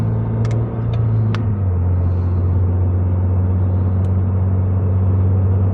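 Steady low engine drone and road rumble inside a Toyota GR86 cabin while driving, loud and continuous, with a few faint clicks near the start and no talking.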